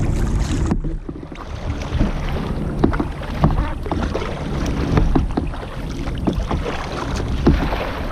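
Kayak paddled on the water in Norway in September, with irregular splashes and dips of the paddle and water lapping against the hull over steady wind noise, and no talking.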